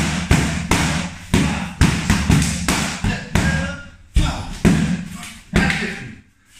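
Eskrima sticks crack against a heavy bag in a quick series of about a dozen solid thuds, each hit sharp at first and then fading, close and loud, practicing the basic doce pares strikes.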